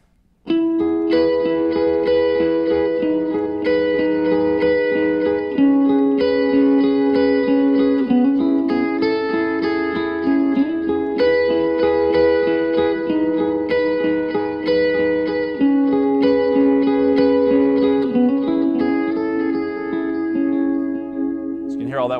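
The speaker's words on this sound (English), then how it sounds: "So you can hear all that washy delay," Clean electric guitar in a worship-band setting, a steady picked pattern smeared by washy delay repeats that add space around each note, loud and sustained throughout.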